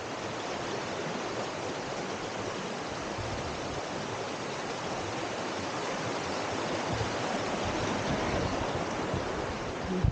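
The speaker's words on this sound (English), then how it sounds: "There's a wee waterfall there." A small waterfall on a river in winter, a steady hissing rush of falling water heard alone, even and continuous, growing slightly louder toward the end.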